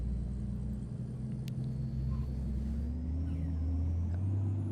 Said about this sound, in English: straight away you can hear that sort of weird engine audio. All that sort of whistling and everything